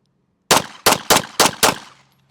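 Five sharp pistol shots fire at a target in quick succession at an indoor or range setting, loud and close, each crack ringing briefly before silence.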